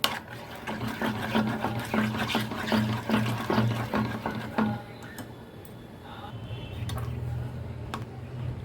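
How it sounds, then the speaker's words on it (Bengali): A spoon stirs mango milk pudding mixture in a pot as it heats toward a boil, making a quick, steady run of light clicks and scrapes that eases off midway under a soft low hum. "এটাকে এখন আমি এইভাবে অনবরত নাড়িয়ে এটাকে বলক আসা পর্যন্ত এইভাবে নাড়িয়ে যাব"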